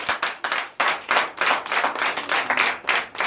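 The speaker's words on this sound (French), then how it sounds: "Donnez de vives acclamations à vous-même." A church congregation at a Sunday service in Benin claps in quick, uneven bursts, sharp and close, the hands beating a loose rhythm throughout without any talking.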